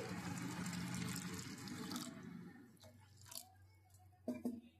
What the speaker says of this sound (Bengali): এরপর আমি এইটাতে আর একটু জল দিচ্ছি।